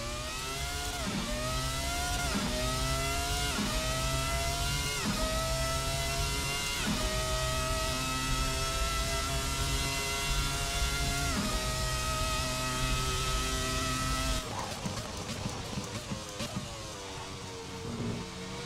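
The Ferrari F300 Formula 1 engine in the Assetto Corsa racing game shrieks at high revs through repeated upshifts, then changes tone with rapid downshifts near the end. The sound stays loud and continuous, with no talking.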